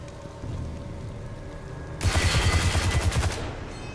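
Gunfire in the video game Destiny 2: The Witch Queen, heard as a quick run of about a dozen evenly spaced shots. It starts sharply halfway through over a quiet background and ends abruptly.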